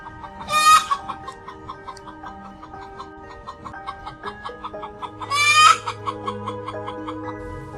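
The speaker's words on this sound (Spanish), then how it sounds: "de pronto una gallina con su canto estremeció el severo silencio de la tarde" A hen clucks and cackles in two loud bursts with a steady run of softer clucks between them, close and clear with no talk over it.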